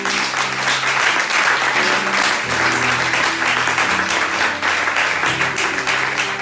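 Sustained applause from a church congregation cheering for Jesus during a French-language sermon, steady and dense throughout with low organ or keyboard tones sounding underneath.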